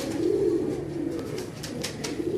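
Teddy pigeons at a home loft give soft, low, rolling coos, close and continuous, over faint background rustle with no speech.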